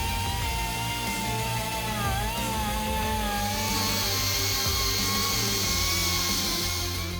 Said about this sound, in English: we're gonna go ahead and polish it up here with one of our air Dremels